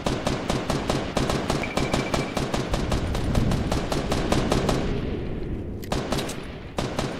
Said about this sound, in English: That rocket's incoming.